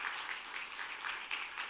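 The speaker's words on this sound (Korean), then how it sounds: "박수 한번 쳐주시길 바랍니다" A church congregation claps during a Sunday sermon, a brief, steady patter of many hands that sounds soft and somewhat distant, with no voices over it.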